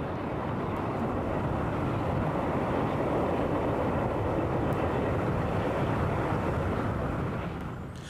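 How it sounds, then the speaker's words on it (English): A Portuguese diesel locomotive, re-engined in the 1970s with a more powerful Alco diesel, runs with a steady, dense broadband rumble that holds for several seconds before easing slightly at the end, with no voices. "These characteristic sounding locos were given a new lease of life during the 1970s"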